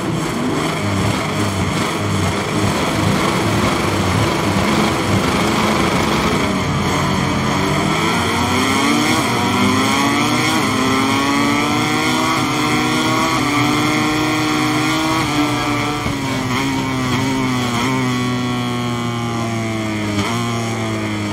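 Race motorcycles roar at the start at Mugello in the MotoGP 23 video game, a loud continuous engine drone whose pitch sweeps upward and shifts as the bikes accelerate, with no talking.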